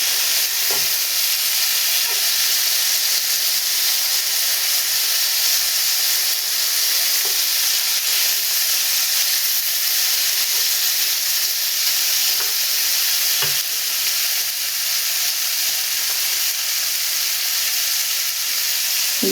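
Chicken cubes fry in a pan for a spring roll filling, a steady loud sizzle with occasional soft stirring clicks throughout, no voices.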